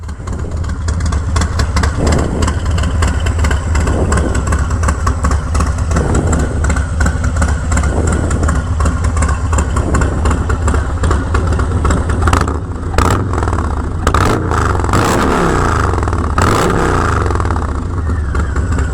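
A Harley-Davidson Low Rider S, fitted with a cam and a Vance & Hines exhaust, idles with a steady loping rumble for about 19 seconds, then gives several sharp revs near the end. The sound is loud and close, with no talking.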